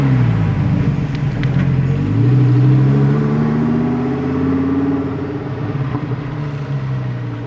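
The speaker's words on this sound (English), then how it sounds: "the naturally aspirated V10 sounds way better" A Lamborghini Huracán Performante with a naturally aspirated V10 revs loudly and close by, its pitch rising and falling in sweeping pulls with no talk over it.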